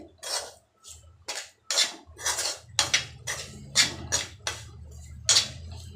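A spoon works vegetables coated with oil, salt, turmeric and chili powder around a metal pot, producing a run of about a dozen rhythmic scraping, clinking strokes with brief pauses, close and fairly loud.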